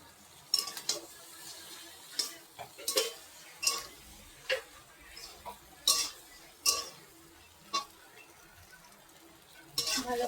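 Pasta stirred in a pan with a utensil: a dozen or so sharp, irregular scraping clacks against the pan over a faint sizzle, close and fairly quiet.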